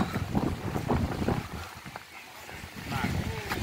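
Strong gusty wind sweeps through an apple orchard, rumbling and buffeting the microphone in uneven surges while people talk over it.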